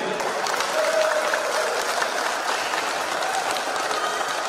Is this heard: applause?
yes